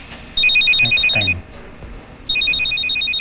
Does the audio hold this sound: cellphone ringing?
yes